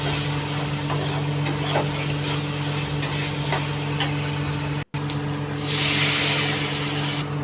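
Steady sizzling and stirring in a hot pan, then a sudden louder hiss bursts up as water hits the frying spices for a stingray fish curry and keeps crackling.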